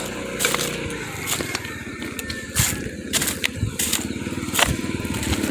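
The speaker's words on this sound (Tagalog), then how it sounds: "May motorsiklo dito." A motorcycle passes on a street with a steady, rumbling engine drone, heard while walking outdoors. Scattered crackles and footstep-like clicks sit over it.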